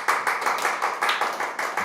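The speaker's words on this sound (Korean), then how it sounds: "격려의 박수 한번 주시죠" Congregation at a Friday evening church worship service clapping together in a steady, rhythmic beat of several hands, fairly close and continuous with no talking.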